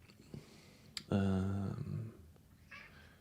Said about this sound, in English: What do you want, kitty cat?